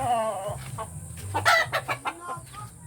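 Several chickens cluck and squawk close by, a busy run of clucks and short calls over quiet background.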